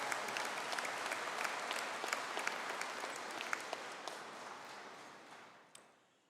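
Sustained applause from a crowd at a university graduation ceremony, dense clapping that holds steady and then thins out and fades toward the end.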